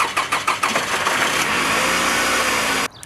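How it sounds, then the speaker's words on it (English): A car engine with worn spark plugs cranks in several rhythmic bursts, then catches and runs steadily for a couple of seconds before cutting off abruptly, close and loud. "because right now my car sounds like this"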